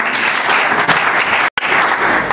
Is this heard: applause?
yes